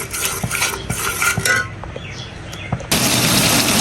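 Spice paste with onion and garlic stirred in a pan for a prawn dish, giving close clinks and scrapes of a utensil against metal, a few quick strokes, then a louder sizzling hiss that takes over near the end.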